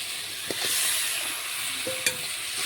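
Spice-marinated chicken goes into a pan of cooked-down masala and fries with a steady, moderate sizzle, broken by a few soft clinks and scrapes of a spoon stirring; no one speaks.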